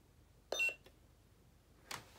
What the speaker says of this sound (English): if you push and hold this until the first beep